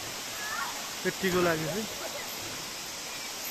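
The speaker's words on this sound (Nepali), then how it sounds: "यहाँबाट माथिबाट आउने पानी" Budar waterfall at Chhatiwan, Doti, in Nepal: water falling from above makes a steady, even rushing roar throughout, with a voice speaking briefly over it in the middle.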